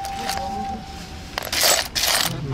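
Coins clink and jingle together at an outdoor flea market in Kyiv, with bright metallic bursts over constant background noise and no talking.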